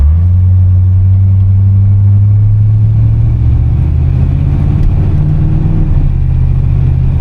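A 1981 Corvette engine accelerating while driving, a loud close-up low rumble that rises in pitch as speed builds, steady throughout.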